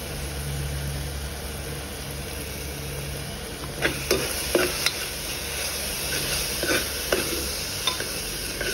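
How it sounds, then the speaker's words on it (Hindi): Dal is tempered with a tadka in a home kitchen pan: a soft, continuous sizzle with a low hum underneath. Several sharp clinks and taps of a utensil on the pan come through in the middle of the clip. "अब मैं इस पर तड़का लगा रही हूँ"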